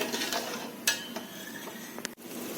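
A spoon stirs sugar and water in a pan for lemon pickle syrup, giving soft scraping with a few sharp metallic clinks against the pan, close and fairly quiet.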